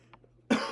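A single harsh cough from a man who is under the weather, close and abrupt, following a moment of quiet with a faint earlier throat sound.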